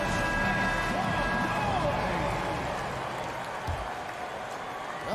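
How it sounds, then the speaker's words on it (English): Arena crowd at a Phoenix basketball game applauds for a youth dance team, a steady wash of clapping and cheering, loud and continuous, slowly easing toward the end. "Fans, please give a big round of applause for your son, youth dance team"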